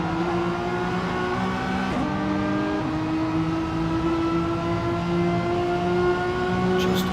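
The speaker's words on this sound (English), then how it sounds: "Just feathering the throttle in 3rd through these corners" Renault Megane Trophy race car engine held at steady revs in third gear with the throttle feathered, a sustained harmonic drone that shifts pitch slightly as it eases through corners, loud and continuous.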